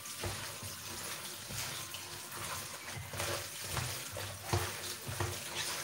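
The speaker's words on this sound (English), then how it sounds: "So I'm running that in cold water now." Cold tap water runs steadily over fresh herbs being rinsed after blanching in a kitchen, a continuous splashing gush with small bursts of spatter and no speech.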